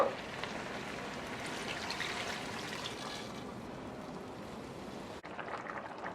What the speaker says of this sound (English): here's where we're gonna add that liquid and bring it up to a boil